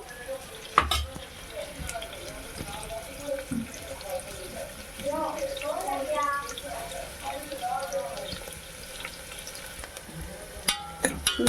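Sliced onions and green chillies fry for mutton keema curry with a low steady sizzle, broken by stirring clatters and utensil knocks, and a voice talks at times over the cooking.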